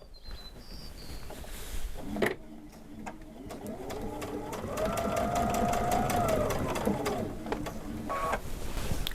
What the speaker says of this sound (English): Now watch how fast it stitches when it's going down this straightaway.